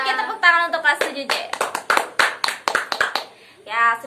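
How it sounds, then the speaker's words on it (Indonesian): Classroom of grade 7 students clapping hands in a rhythmic patterned cheer, a run of sharp claps between stretches of a teacher's voice. "tepuk tangan untuk kelas 7J"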